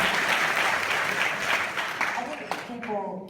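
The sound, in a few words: audience applause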